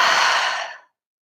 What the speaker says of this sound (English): deeply breathing out through the mouth